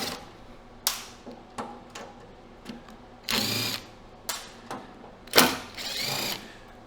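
Screws are being removed from the housing of an induction forge unit, about nine per side. Close, scattered sharp clicks are broken by two longer whirring, rasping bursts, with no voices.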